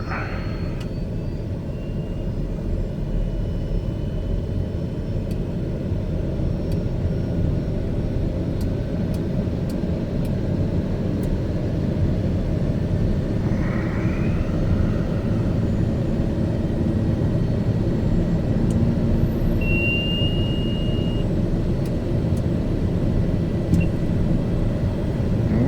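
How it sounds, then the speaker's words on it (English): A Daher TBM 850 turboprop engine runs steadily after start on a cool morning, a loud, even drone and whine that holds unbroken throughout with no voices over it. "Got a good engine start."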